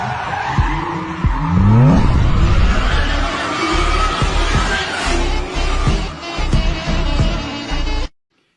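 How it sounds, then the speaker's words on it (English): A car skids through a handbrake drift, tires squealing in rising and falling streaks while the engine roars at full throttle, loud and close, followed by continued skidding and rumbling before it cuts off abruptly. "Accelerator, full speed, and then handbrake."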